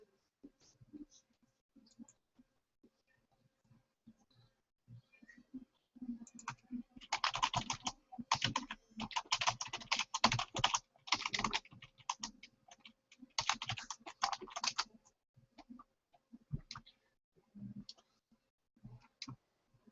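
Someone typing on a computer keyboard during a webinar, in bursts of rapid close key clicks separated by short pauses, with faint background noise between them.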